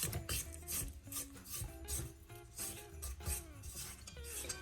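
A spatula scrapes cookie dough down the sides of a mixing bowl in repeated rasping strokes, with faint clinks between them, quiet and close.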